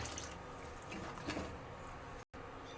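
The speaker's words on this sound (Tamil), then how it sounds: "தண்ணி சேர்க்கணும்" Water is poured into a simmering curry made with a ground tomato paste base, a soft trickling splash running for a couple of seconds before a brief cutoff.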